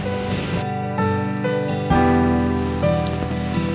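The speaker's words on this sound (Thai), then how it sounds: "ฝนตก" Rain falling outdoors in Thailand, a steady dense patter mixed with a constant droning hum, loud and unbroken for the whole stretch without any voices.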